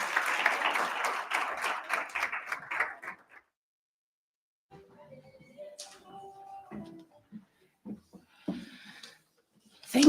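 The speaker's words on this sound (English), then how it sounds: "Give her a round of applause as she comes up" Welcoming applause at a conference on gender equality and just energy transitions, clapping dense for about three seconds then stopping, followed by faint stage noises and scattered sounds.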